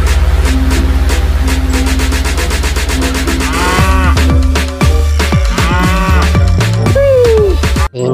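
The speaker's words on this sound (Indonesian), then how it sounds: "Wow. Sapi perah." A dairy cow in a video game lets out several drawn-out moos over steady electronic game music, loud and close, with no talking.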